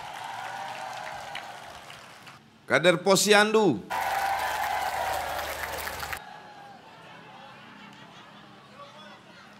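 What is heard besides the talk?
applause for the Dasawisma cadres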